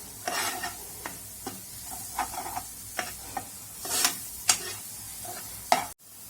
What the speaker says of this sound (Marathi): ह्याला आपल्याला सारखं थोड्या थोड्या वेळाने परतायचं आहे, जोपर्यंत ते सुक्क होत नाही तोपर्यंत